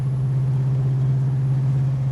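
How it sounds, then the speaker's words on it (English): Deep, even exhaust drone from a 1969 Dodge Charger R/T's four-barrel V8 with four-speed manual, heard from the cabin while driving, loud and steady for a couple of seconds without talk. "Really gives it a great exhaust note as well."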